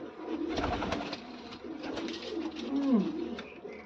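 Pigeons coo in repeated low, throaty phrases, close by and fairly loud, with a distinct rolling coo near the end, in a coop where birds with colds, cough and eye trouble are being handled.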